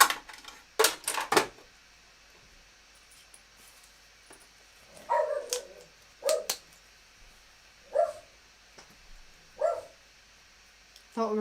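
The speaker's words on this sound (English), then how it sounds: "Can you hear the dog going bananas in the background?" A dog barks repeatedly in the background during a home sewing session, with a couple of quick sharp barks followed by spaced bursts of yapping that recur every second or two at moderate distance.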